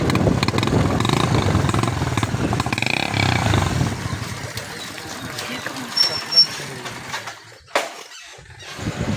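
A motorcycle engine runs steadily among rural cotton and vegetable fields, loudest in the first few seconds and then fading, with people talking over it throughout.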